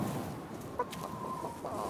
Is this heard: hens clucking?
yes